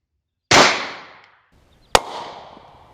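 Two sharp shots from a Walther P38 9mm pistol fired at a WW2 German M40 steel helmet about 12 yards away; the first loud crack decays over a second, a second sharp report follows about a second and a half later, no talking.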